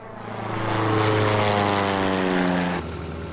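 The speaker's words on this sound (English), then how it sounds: "Jim, come on, man, there's a plane." A propeller airplane drones overhead above Mount Johnson in Alaska, a steady loud engine hum with a clear rising-falling pitch as it passes, then fading slightly, with no talk.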